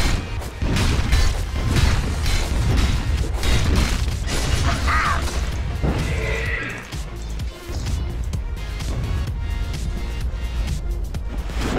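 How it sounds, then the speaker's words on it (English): A grinding gears effect from the video game Dota 2 plays during a match, a loud run of mechanical clanking and ratcheting. It sits among busy game sounds and brief voices. "Grinding gears."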